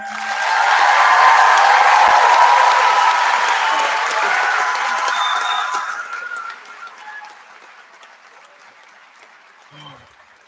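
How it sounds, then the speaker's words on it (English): A high school graduation audience of the class of 2023 applauds, a dense crowd clapping that swells, holds for several seconds, then fades away to near silence. "I know you guys just finished applauding"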